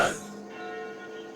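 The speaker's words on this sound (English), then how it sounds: "Those sound like the church's noontime bells." Church bells ring out at noon in the horror game Sucker For Love, a struck tone followed by a long, ringing metallic hum that hangs steady and fairly loud.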